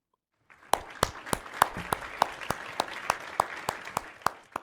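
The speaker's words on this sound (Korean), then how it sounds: "우리 다 같이 박수로 선교사님을 맞도록 하겠습니다" A church congregation at a Sunday service claps to welcome a missionary to the pulpit, the sharp claps landing in a steady, even beat over a softer wash of scattered clapping.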